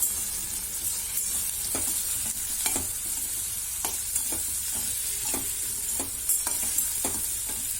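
Farali khichdi with sugar and lemon juice being stirred in a hot pan, a continuous close sizzle broken by repeated sharp spoon scrapes and taps against the pan at an uneven rhythm.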